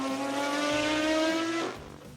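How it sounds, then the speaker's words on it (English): A Maserati MC12 Corsa's 6-liter V12 with race exhaust howls hard and near, holding a high, rising note for a moment before cutting sharply back into a lower rumble. "The Corsa version, with its race exhaust, sounds even more extreme."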